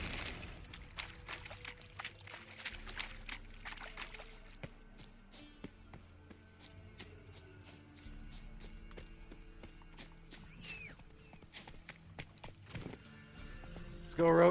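Roach, the horse in The Witcher 3: Wild Hunt, gallops with rapid, close clip-clop hoofbeats in a driving rhythm across the whole stretch, with a voice talking over it at times.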